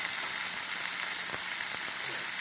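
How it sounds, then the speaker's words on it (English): Broccoli and carrots stir-fry in vegan butter in a hot pan, a steady, dense sizzle with a few soft clicks of stirring throughout. "now we're gonna add the broccoli and the carrots and lightly stir fry them."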